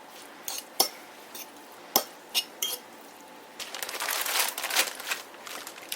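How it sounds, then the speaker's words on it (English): Softened cream cheese mushed down in a bowl, several sharp utensil clinks against the dish followed by a steady soft squishing and scraping, close up and without talk. "But you just want to like mush it all down."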